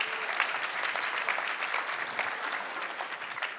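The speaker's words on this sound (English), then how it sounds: "Let's get one more round of applause for all of our great keynote speakers" A conference audience applauds keynote speakers at an AI engineering event, with dense, steady clapping from a large crowd filling the room throughout.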